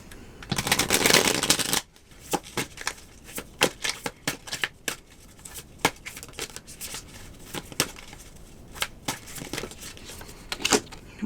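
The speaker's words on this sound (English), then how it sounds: "If I can get a good shuffle." A deck of tarot cards is shuffled by hand: a dense riffling burst at the start, then a long run of sharp, irregular card snaps and taps, close and clear with no talking.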